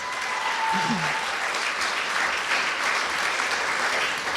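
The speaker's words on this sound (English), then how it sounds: "Let's give everyone a round of applause" An indoor audience at a youth mental health summit applauds in a steady, dense wash of clapping that holds evenly for several seconds.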